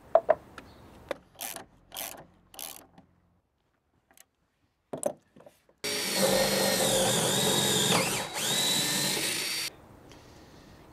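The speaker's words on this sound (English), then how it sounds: "When you're drilling a hole using a coach screw, you actually want to choose a drill bit that's a couple of mils smaller" A power drill bores a pilot hole for a coach screw, a loud steady whir lasting a few seconds after some brief knocks and handling sounds.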